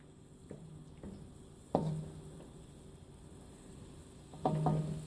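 Pancit noodles stirred in a pan, a few scraping clinks of a utensil against the pan over a faint sizzle, spaced irregularly and close.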